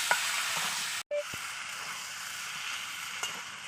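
Potatoes fry with spices in a pan, giving a close, continuous sizzle broken by a momentary gap and a few light spatula knocks as they are stirred.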